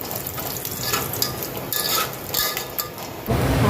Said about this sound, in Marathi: आता मी हे शेंगदाणे छान भाजून परतून लालसर शेंगदाणे भाजून घेते त्या तेलामध्ये.